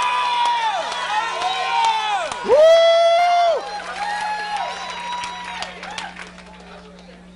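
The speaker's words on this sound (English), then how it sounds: "Somebody clap your hands." A church congregation claps and cheers loudly during a motivational sermon, with shouts and a whoop rising over steady crowd noise while a preacher speaks.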